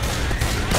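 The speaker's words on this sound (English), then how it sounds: "Why are you shooting me?" Gunfire in the zombie shooter Left 4 Dead 2, a loud dense burst of rapid shots with booming impacts, filling the brief moment without pause.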